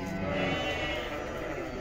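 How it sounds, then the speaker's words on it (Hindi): Sheep on a farm bleating loudly for food, a continuous overlapping chorus of wavering calls heard close by. "लेकिन वो भेड़े बहुत आवाज कर रही हैं खाने के लिए"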